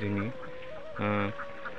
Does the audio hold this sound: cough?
no